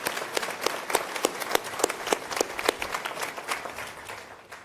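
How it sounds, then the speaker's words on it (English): An audience at the Toyota engineering headquarters event gives a round of applause, dense steady clapping from many hands filling the space without any voices on top. "let's give them a round of applause"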